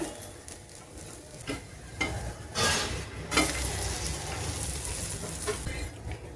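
A wheat flour snack sizzling in a hot pan after being flipped, with a steady frying hiss broken by scraping stirs and brief bursts of louder sizzle, close and without talk.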